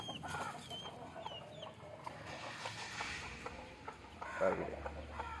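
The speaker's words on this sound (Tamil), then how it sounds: "இது கருங்கோழி குஞ்சாங்க ப்ரோ" Young black chickens (native country hens' chicks) cluck and peep softly against a busy outdoor background, with scattered chirps throughout.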